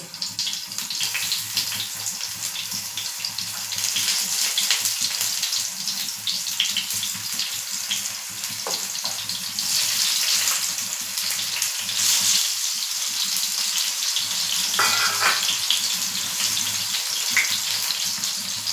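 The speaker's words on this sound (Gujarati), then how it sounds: "તો આપણે તેલમાં ટામેટા એડ કરી લીધા છે" Tomatoes sit in hot oil over a very low flame, sending up a steady, close sizzle and hiss that runs throughout with slight swells and a few sharper crackles, no voices.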